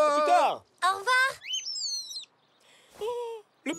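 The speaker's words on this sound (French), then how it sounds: "Le petit oiseau lui a dit au revoir." Little cartoon bird chirping goodbye, a series of bright chirps and gliding whistled calls, loud and close with short pauses between.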